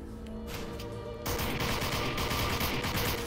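Rapid bursts of gunfire from a VR John Wick combat game crack out in dense, overlapping volleys, louder and busier after the first second, with no talking over them.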